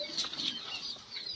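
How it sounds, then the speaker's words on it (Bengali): Chickens kept at a rural cattle-selling yard cluck in a few short, moderately near bursts over a light background hum. "অনেক মুরগি পুষে রেখে দিয়েছে ভাই"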